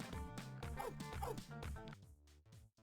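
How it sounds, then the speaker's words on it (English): A puppy in the Mario Party video game yips and barks in a quick rhythmic series of sharp, bright barks over game music, then trails off into a softer whimper near the end. "We're out here petting pups."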